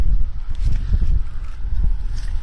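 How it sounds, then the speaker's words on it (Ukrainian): A tractor pulling a roller shredder runs right behind a combine harvesting sunflowers in an open field, heard as a loud, steady low engine rumble with heavy wind buffeting, no talk. "Одразу у нас іде трактор з катком подрібнювачем одразу за комбайном."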